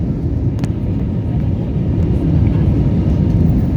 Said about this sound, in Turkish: Sadece ben kalkış anını çekmek istedim.